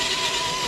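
Cross RC NT6 RC truck in second gear, flat out, giving a steady high electric motor whine, loud and close in a short burst with no voices.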